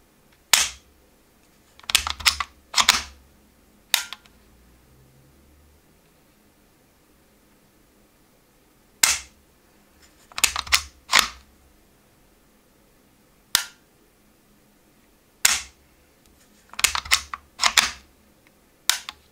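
Trigger of a Heckler & Koch Mark 23 pistol being pulled and reset, giving sharp, close mechanical clicks in scattered single and paired bursts with quiet gaps between them.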